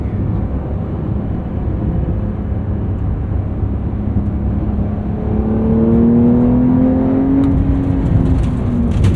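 A 2023 Porsche 911 Carrera T with a manual gearbox and 379 horsepower drives downhill on a road left gravelly by rain, heard from inside as a steady loud road and engine drone whose engine tone climbs toward the end.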